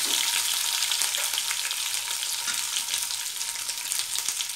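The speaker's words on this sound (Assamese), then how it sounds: "জিৰা কিটা অলপ ফুটাই লোৱাৰ পাছত তাত মই এই কেঁচা জলকীয়া কিটা দি দিছোঁ" Sliced green chilies sizzle in hot oil with cumin seeds in a pan, a steady close frying hiss with small crackles and pops running throughout.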